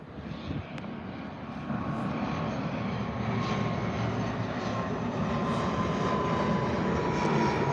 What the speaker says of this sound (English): ATR 72600 on its way in from Guernsey